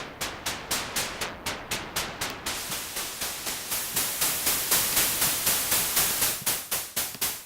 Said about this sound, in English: we can have the waveform white noise there.